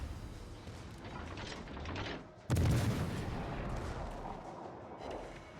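Naval guns fire in the World of Warships Legends video game. A single sudden heavy boom cuts through the ongoing battle noise midway, followed by a rolling rumble that slowly fades.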